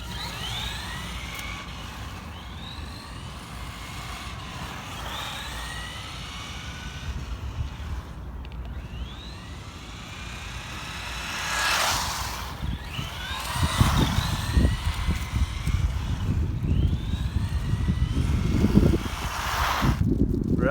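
A Tamiya RC car with a Technigold motor, timing turned up full, on a standard 7.2 NiMH battery and Techniplus radio gear. It whines past in rising and falling sweeps, and a louder, rougher rush builds toward the end.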